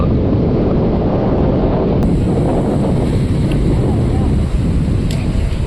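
Strong wind buffets the microphone over a constant roar of surf and waves on the Porbandar seashore, loud and unbroken throughout.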